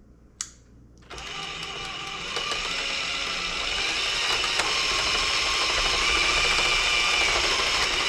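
A GEOCCI electric motor fitted to an Addi knitting machine starts up and runs at full speed, a steady whirring mechanical drone with rapid ratcheting clicks that grows slightly louder and holds steady.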